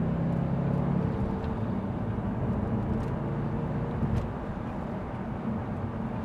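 An Audi RS4 convertible's engine pulls hard under acceleration in a steady, loud, close drone with a slight drop toward the end, and no voices are heard.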